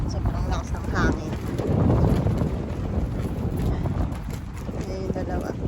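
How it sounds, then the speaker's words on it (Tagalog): Strong wind buffets the microphone at a beach campsite in Calatagan, Batangas, a loud rushing roar that surges and eases throughout, with a person speaking under it. "Sobrang lakas ng hangin."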